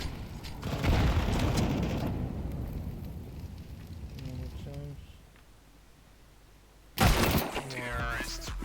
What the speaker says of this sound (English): Throwing fire. Grenade out.